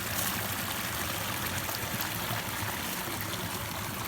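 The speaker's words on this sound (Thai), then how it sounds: "บรรยากาศน้ำไหลลงดี" Rainwater flowing steadily nearby, a constant rushing trickle with no pauses, fairly loud and alone.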